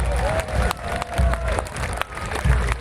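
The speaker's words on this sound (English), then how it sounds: "They want to hear those cheers all the way around." Spectators cheer and clap as the Lonach Highlanders march past at the Lonach Gathering, a broad crowd roar with low thumping pulses underneath, continuous and fairly loud throughout.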